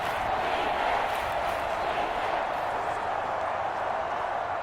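Steady, dense roar of Seattle Seahawks fans filling a stadium in Madden NFL, a loud continuous wash of crowd noise with no breaks.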